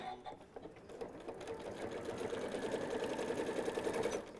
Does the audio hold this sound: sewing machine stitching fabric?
yes